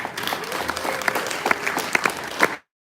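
Audience applause at a New York City political speech, a steady burst of many hands clapping with a few sharper claps, lasting over two seconds and then cutting off to silence.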